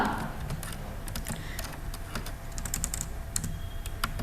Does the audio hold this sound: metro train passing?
no